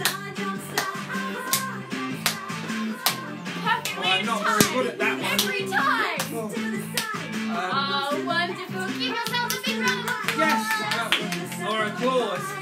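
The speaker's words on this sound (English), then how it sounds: "Maybe we can jump and clap at the same time." Children jumping and clapping hands in time during a kids' party dance activity, with sharp regular claps and thumps over a repeating music beat and some voices, continuing steadily for several seconds.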